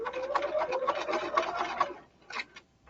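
A sewing machine stitches fabric in quick, rattling bursts for about two seconds, then briefly stops and runs again in a short final burst, close and clear with no talk.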